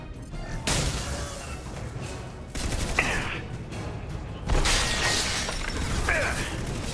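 A robot boss in Mass Effect 2 fires its arm weapon while crab walking, sustained loud bursts of gunfire with sharp metallic cracks and crashes, surging in waves.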